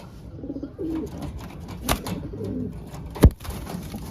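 Soft cooing from a female pigeon over a murmur of birds, with a brief flutter near the middle and a sharp knock toward the end.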